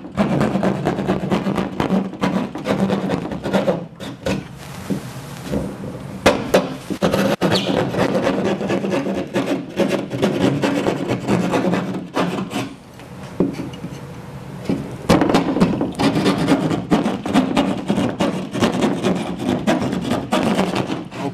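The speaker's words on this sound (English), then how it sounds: "Now you want to use a keyhole saw as such, basically to punch a hole directly into the drywall" A keyhole saw punching into and cutting through drywall, loud rapid rasping strokes in a continuous rhythm with brief pauses, close and alone.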